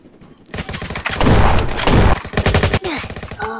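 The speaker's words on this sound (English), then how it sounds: "I heard gunshots." Rapid bursts of gunfire crackle in the Roblox Jailbreak game, dense overlapping shots building into a loud fusillade, then thinning into scattered pops near the end.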